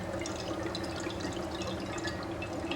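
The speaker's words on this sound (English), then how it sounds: "if you listen to the bubbles, you have some kind of music in your ears" Liquid bubbling and fizzing steadily in a container during a chemistry demonstration, a dense, continuous patter of small pops and gurgles with no voices over it.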